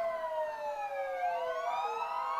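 Several overlapping emergency-vehicle sirens wail with rising and falling tones at a downtown Christmas parade, steady and fairly loud throughout with no talk.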